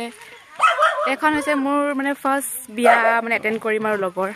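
A dog barks in short, repeated yelps near a wedding (juron) gathering, mixed in with nearby people talking throughout.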